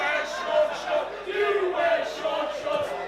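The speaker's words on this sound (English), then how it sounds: "the crowd not liking Daniel Dockley wearing shorts." A crowd at an indoor wrestling show boos and jeers in uneven, swelling waves of mixed voices, with a few louder shouts rising out of the noise.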